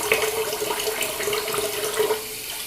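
Tap water runs steadily into a sink while someone rinses their face during a shave, a close, continuous splashing with small irregular splatters.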